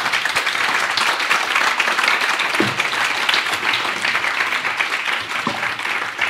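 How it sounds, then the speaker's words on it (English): A conference audience gives a warm round of applause for a discussion panel on geopolitics and cultural relations, steady massed clapping that stays even from start to finish. "very warm round of applause, if you would"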